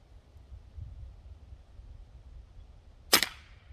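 One sharp, loud crack from a Diana Bandit air pistol shot outdoors through a chronograph, with faint wind and low rumble before it and a brief fading tail afterward.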